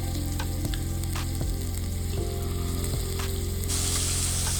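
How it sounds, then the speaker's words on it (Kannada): Ginger garlic paste and peppercorns frying in a pan, a loud steady sizzle with occasional stirring clicks, close and continuous with no talking. "ಶುಂಠಿ ಬೆಳ್ಳುಳ್ಳಿ ಪೇಸ್ಟ್ ಹಾಕಿದ ಮೇಲೆ ಸ್ವಲ್ಪ ಫ್ರೈ ಮಾಡ್ಕೋಬೇಕು."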